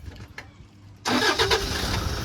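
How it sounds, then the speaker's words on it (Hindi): A car engine cranks and catches after a second of quiet cabin ambience, jumping into a loud, steady idle close by, with no speech. "हमने इंजन को ऑन किया"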